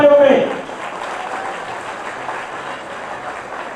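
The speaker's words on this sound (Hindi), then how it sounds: "जोरदार तालियों में" Loud applause from an award ceremony audience in Hyderabad, a burst of clapping that quickly settles into steady, sustained applause filling the hall.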